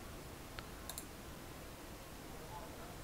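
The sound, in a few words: computer mouse clicking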